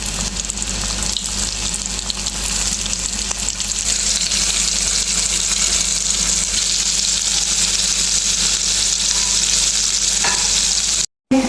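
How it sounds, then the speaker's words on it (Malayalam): Soybean snack pieces coated in cornflour and egg deep frying in hot oil, a steady loud bubbling sizzle running throughout without talk, cut off briefly near the end. "എണ്ണ നല്ലോണം ചൂടായി വന്നിട്ടുണ്ട്"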